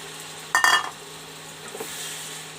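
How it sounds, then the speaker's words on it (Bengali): Potato slices fry with chopped ginger in a pan, a brief loud clatter and sizzle near the start, then a steady low frying hiss continuing alone. "সামান্য রাউন্ড রাউন্ড ভেজে নেব।"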